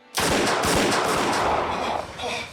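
Loud, rapid gunfire from a .357 handgun erupts suddenly as a reenacted close-range shooting, a dense burst of overlapping shots with heavy echo that rings out for over two seconds before tapering off.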